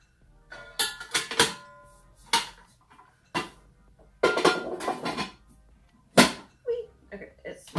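A metal inner cooking pot set into a Ninja Foodi multi-cooker, heard as several sharp clanks and knocks with a little scraping, spread across the span with quiet gaps between them.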